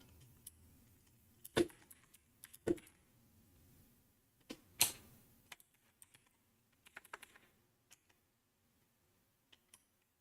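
Sparse bursts of clicky keystrokes on a loud mechanical keyboard, close and crisp, come in short irregular clusters separated by quiet pauses.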